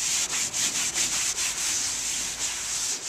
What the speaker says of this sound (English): by roughing it up before I put on any filler, it helps with the mechanical bonding process